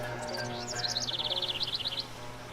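Birdsong built into a flight simulator's ambient sound effects: a bright, rapid run of repeated chirps over a steady low hum, clear and alone with no talk.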